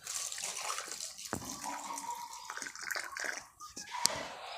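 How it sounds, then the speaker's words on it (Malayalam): Washing water is tipped out of a vessel in one continuous splashing pour, with a few sharp knocks and drips near the end and no talk. "ഈ വെള്ളം കമത്തി കളയാം."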